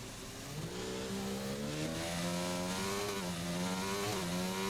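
Formula 1 cars in a racing video game at the Abu Dhabi Grand Prix leaving the pits, a continuous high engine whine with shifting revs as several cars pass together.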